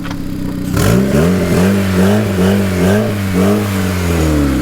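Quad turbo Honda Civic engine revving hard during a burnout, opening with a sharp bang before rising into loud, repeated wavering revs that surge and dip in a rough rhythm, close and alone.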